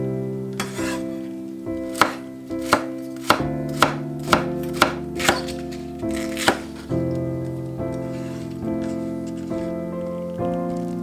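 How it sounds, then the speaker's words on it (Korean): A knife chops green onion on a board in about ten crisp, evenly spaced strikes close up, set over a steady musical backdrop with no talking. "파를 잘 잘라주세요."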